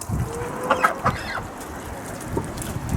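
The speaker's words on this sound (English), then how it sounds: "so we keep our ducks and our chickens here" Chickens cluck in a poultry yard shared with ducks, a few short bursts of calls near the start, then quieter background activity and low outdoor noise.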